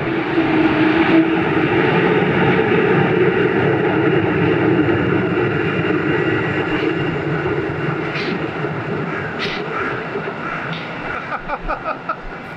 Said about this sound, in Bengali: এই যে ঝুলন্ত যে ট্রেন আছে সেই ট্রেনের ট্র্যাক